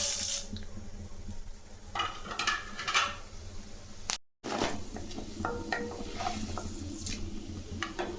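Urad dal fries in hot oil in a kadai, making a bright crackling sizzle broken by stirring scrapes and clicks, with a brief silent gap partway through.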